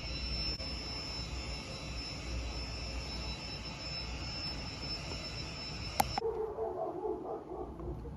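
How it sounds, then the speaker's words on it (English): A helicopter flies outside a home, its steady broadband engine and rotor roar running continuously for about six seconds before abruptly cutting off, leaving quieter room sound. "There's an actual helicopter outside."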